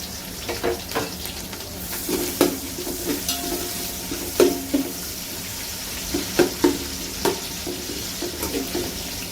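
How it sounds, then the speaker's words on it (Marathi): Chopped onion and coriander frying in hot oil for a vegetable biryani, with a steady close sizzle broken by repeated scraping stirs of a spoon against the pan. "कांदा घालते मी आता. थोडी कोथिंबीर पण तेलामध्ये घालून घेते."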